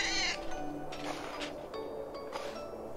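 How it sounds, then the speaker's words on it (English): A hurt cat gives a sharp, high meow at the start of the scene in the Christmas horror video game Slay Bells, followed by softer clattering game sounds and faint background tones. "You just hurt a cat, good sir."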